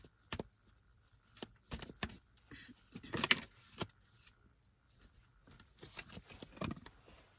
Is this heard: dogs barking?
no